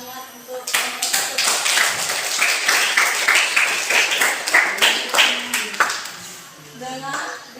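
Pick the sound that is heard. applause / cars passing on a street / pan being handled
applause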